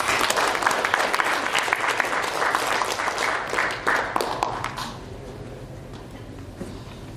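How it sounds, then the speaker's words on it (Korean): A church congregation claps in thanks, loud and dense applause for the first five seconds that then fades quickly into a quiet room. "수고하신 우리 분들에게 또 감사의 박수 한번 드립니다"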